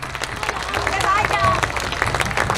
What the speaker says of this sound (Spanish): un gran aplauso para ustedes